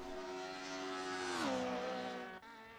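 DTM race car engine in a racing video game on the Nordschleife, a steady high-revving whine that shifts pitch mid-clip as the car changes gear, continuous and fairly close, with no talk over it.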